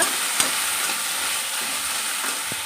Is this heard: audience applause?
no